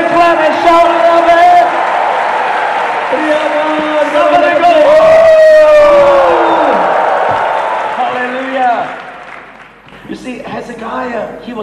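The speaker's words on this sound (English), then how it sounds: "Give God a big clap and shout it out." A church congregation claps and shouts in a sustained burst of loud crowd noise, with whoops and cheering mixed under a voice calling out from the front, fading toward the end.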